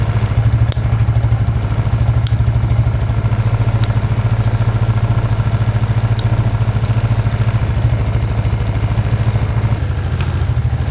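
A 26-year-old Arctic Cat 300 4x4 ATV engine idles steadily throughout, a loud, even low-pitched putter with faint occasional clicks over it.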